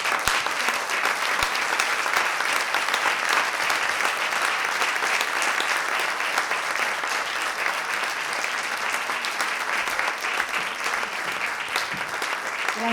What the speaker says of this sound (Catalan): Per totes elles, un fort aplaudiment.